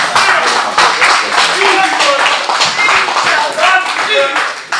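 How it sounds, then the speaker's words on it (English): Applause from the audience at a boxing press conference, brisk close clapping from a smallish crowd, loud and continuous, with voices talking over it. "Round of applause, please."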